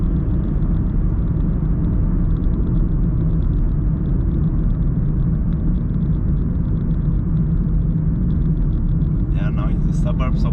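A car driving along the DN67D mountain road near Târgu Jiu, Romania, heard from inside as a steady, loud low road rumble and engine drone that holds constant for the whole stretch.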